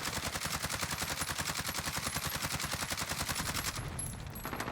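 AMAX assault rifle in Call of Duty Warzone fires one long, rapid, evenly spaced automatic burst for about four seconds, then stops abruptly, with no talk over it.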